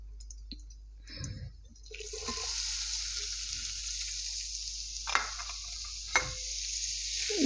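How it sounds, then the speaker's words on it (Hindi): Chicken sizzles in hot oil with garlic, a steady bright frying hiss broken by a few sharp clicks and scrapes of stirring; nobody speaks. "5 मिनट इसको फ्राई करेंगे लहसुन के साथ।"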